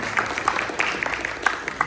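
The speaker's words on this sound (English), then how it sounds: "one round of applause for Mayor Chow for making this happen" Applause from a teen comedy show audience, a dense patter of claps close by and fairly steady over the short stretch, with a few sharper individual claps standing out.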